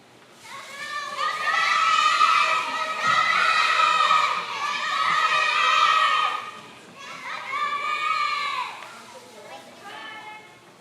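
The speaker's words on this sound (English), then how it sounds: "The crowd is doing their best to wake him up." Children shout and cheer in waves at a second-grade school play, loud bursts of young voices rising and falling with brief pauses between.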